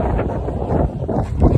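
Strong wind gusts across a mountain trail on the Pacific Crest Trail, a steady low roaring rush with buffeting swells, loud and close against the microphone with no voices.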